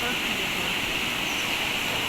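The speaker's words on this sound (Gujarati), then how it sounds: "અલકનંદા નદી છે લગભગ" The Alaknanda river rushes along on the Kedarnath route, a constant, dense roar of flowing water with a hissing edge, steady and unbroken throughout.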